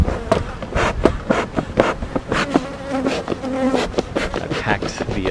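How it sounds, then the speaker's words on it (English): Honey bees swarm and buzz loudly around an opened hive, a close, dense drone with individual insects zipping past the microphone in uneven pulses. "They launch a lot of bees into the air."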